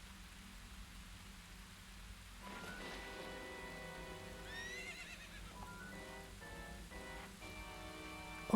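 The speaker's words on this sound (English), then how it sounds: "Oh, that's a pretty white horse." A horse neighs in the video game Ocarina of Time, a bright whinny rising over a steady rain-like hiss of background ambience, followed by a few fainter snorting bursts; no one speaks.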